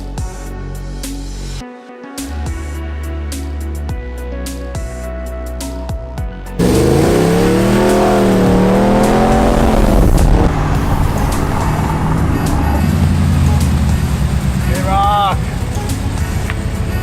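A truck on a test drive, running on Amsoil oil, with a steady engine and road rumble throughout while people talk over it for most of the stretch.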